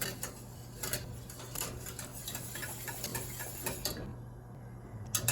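A whisk scrapes rhythmically through milk in a pan for a moussaka sauce: quick, light metallic strokes, soft and close, repeating steadily with no talking.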